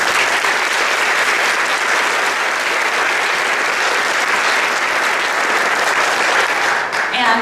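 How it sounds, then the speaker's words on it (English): Loud, sustained applause from a large crowd at a junior high honor choir festival fills the whole stretch, dense clapping without a break. "please can we give those teachers one more round of applause"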